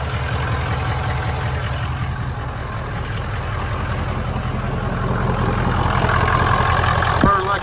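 A Ford 6.0 Powerstroke diesel idles steadily just after an oil change, with a low, even rumble and clatter close by that holds level throughout and grows slightly louder near the end.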